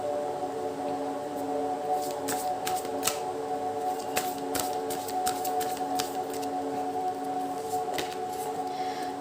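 Tarot cards are shuffled and drawn, giving sharp scattered flicks and snaps over a steady tonal background hum, with no talking.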